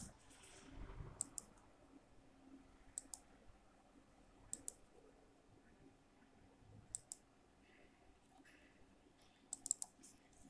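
Sharp computer mouse clicks while drawing a boundary line in Eagle 7.5.0 PCB design software, coming in small pairs and clusters spaced a few seconds apart over a quiet background hum.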